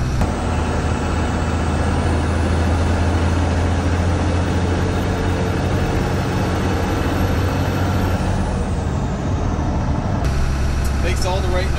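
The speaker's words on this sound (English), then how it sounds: "Makes all the right noises. Pretty hard to beat that turbo noise, right?" A 1978 Chevrolet one-ton squarebody dually with a 12-valve Cummins turbo diesel and Getrag five-speed rumbles loud and close in a steady, heavy drone, its tone dropping and shifting near the end.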